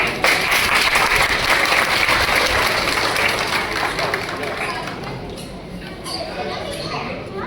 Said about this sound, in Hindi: तालियों से स्वागत करके सबका मनोबल बढ़ाएंगे।